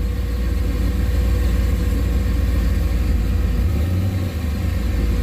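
Engine with a Terminator X Max controller and a 4L85E automatic transmission running in third gear, a loud steady low rumble with a constant drone and a slight dip in pitch near the end.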